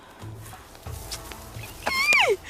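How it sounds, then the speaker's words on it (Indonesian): A wolf howls once in a short, rising-then-falling cry near the end, fairly loud, after a few faint thuds and rustles, heard alone without talk. "nggak dengar apa tadi suara serigala"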